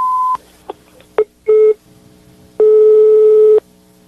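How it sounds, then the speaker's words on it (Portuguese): Telephone busy tone after a dropped call: an opening beep followed by several short interrupted tones and one long steady tone, loud and alone with no talking. "Sabirila, a ligação caiu."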